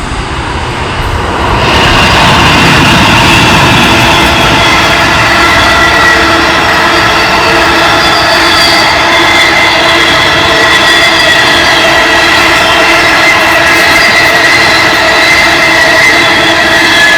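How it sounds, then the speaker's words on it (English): The Great Southern passenger train rushes past up close, a loud sustained roar of wheels and engine that swells quickly after a quiet start and holds steady, with no voices. "That was not a freight train. It was a passenger train."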